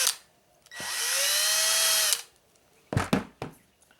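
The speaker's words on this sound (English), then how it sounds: "I'm just going to drill a hole, a 1/4 inch hole in the bottom." A cordless drill whirs steadily for about a second and a half drilling a 1/4 inch hole in an N scale model railway layout, its pitch climbing slightly, followed by a few sharp knocks and clicks nearby.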